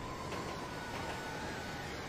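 A faint, steady low rumble fills the inside of a moving train car, a continuous drone with no voices over it.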